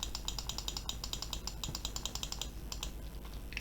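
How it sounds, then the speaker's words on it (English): Rapid, steady clicking from a computer mouse at a desk, crisp close taps in quick irregular bursts with no talking. "Sorry if you can hear the constant clicking of my mouse."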